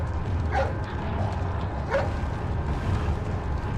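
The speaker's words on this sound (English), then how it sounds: "Hey, it's that dog." A dog barks in a video game, two short yips standing out over steady, dense game background noise with no talking.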